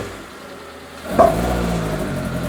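A car engine with a fueling problem starts up and runs roughly, a low uneven rumble with a brief louder burst near the start, continuing steadily without any talk, water coming out the exhaust.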